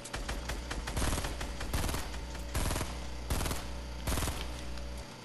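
Assault rifle fire in a shooter video game rattles out in repeated rapid bursts, loud and close, with brief pauses between volleys and no talking.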